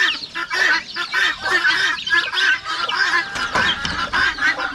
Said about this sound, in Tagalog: ito yung mga gansa natin, oh.